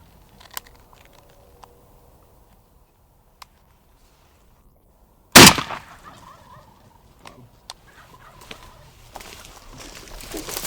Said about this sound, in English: That's a bunch of gobblers, man.